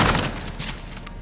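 Rapid gunfire in a first-person shooter video game, a dense burst of sharp shots up close that stays loud for the whole brief moment and then eases slightly.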